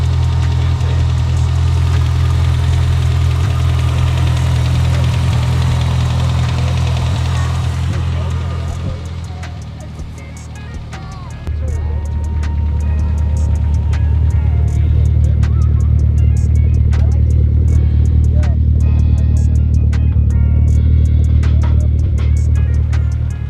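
A Dodge Shadow Shelby CSX with a 3-inch exhaust idles loudly with a deep, rumbling note, dipping briefly midway before settling back into a steady throaty drone.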